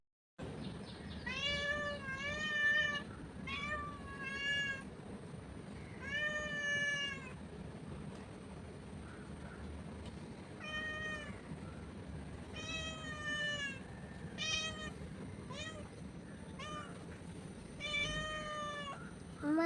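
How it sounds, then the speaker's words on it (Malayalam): A domestic cat meows over and over in a home kitchen, in bursts of drawn-out, harmonic-rich calls separated by short pauses, close and fairly quiet with no talking. "അപ്പോൾ ഞങ്ങളിനി പൂച്ചയ്ക്ക് എന്തെങ്കിലുമൊക്കെ തിന്നാനായിട്ട് കൊടുക്കണം"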